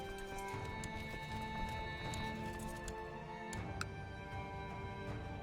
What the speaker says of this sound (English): We have horses.